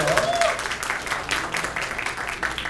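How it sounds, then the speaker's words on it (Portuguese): Applause at a Harry Potter cosplay gathering for a Gryffindor student costume, a steady wash of clapping from a crowd, moderately loud throughout with a faint voice briefly audible at the start. "E as palmas"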